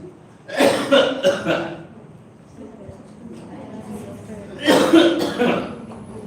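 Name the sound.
imitated coughing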